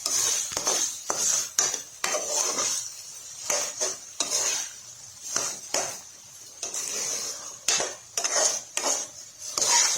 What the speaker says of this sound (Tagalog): So, haluin na natin mga dre.